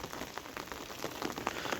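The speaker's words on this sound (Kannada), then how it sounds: "ಬಿಸಿಲು ಬರ್ತಿದೆ, ಮಳೆನೂ ಬರ್ತಿದೆ." Steady rain falls in a sunny spell, a dense, even patter of drops striking a surface close by, with brief louder splashes and no voices.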